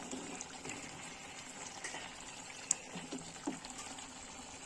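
A small-fish curry with prawns simmers in a pan, giving a faint, steady bubbling with a few soft pops.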